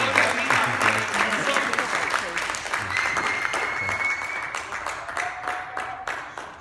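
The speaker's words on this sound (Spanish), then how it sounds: "Les doy un aplauso al Rey de Reyes y Señor de" A church congregation applauds during an evangelical sermon, a sustained, dense wash of many hands clapping at steady volume for several seconds, with voices calling out over it.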